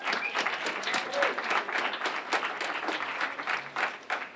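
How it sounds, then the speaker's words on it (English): An audience gives a round of applause at an art exhibit event, many hands clapping in a dense, even wash that holds steady for several seconds, with a brief voice and a slight crowd murmur in the mix. "give them another round of applause"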